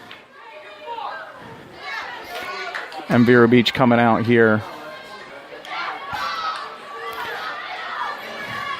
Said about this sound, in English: Very loud Bishop Moore crowd right in front of us.